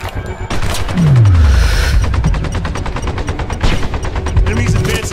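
Rapid, sustained machine-gun and rifle fire in the military shooter Sniper Ghost Warrior 2, loud and dense, with heavy booms mixed in and a voice talking over the battle.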